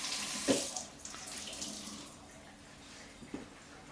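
Tap water runs steadily into a sink to wet a towel in a home kitchen while making focaccia, a continuous close hiss with a couple of brief splashes.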